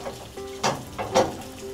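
Ground beef straight from the pack lands in a hot, well-oiled pan with soft sizzling and a couple of brief, louder bursts of spattering, close and quiet.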